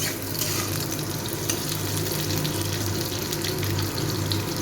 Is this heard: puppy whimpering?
no